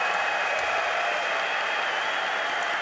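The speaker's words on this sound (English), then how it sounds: "Big round of applause for you as well." Audience applause at the opening ceremony of the Invictus Games Düsseldorf 2023, a steady, dense wash of many hands clapping throughout, sustained and even with no voices standing out.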